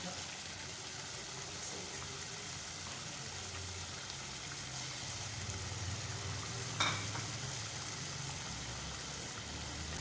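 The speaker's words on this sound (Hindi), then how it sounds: "अब ये मैं भून रही हूँ अच्छी तरह।" Spices and chicken for a white chicken karahi frying and being stirred in a pan, a soft continuous sizzle with faint stirring scrapes and one brief clatter, fairly quiet and close.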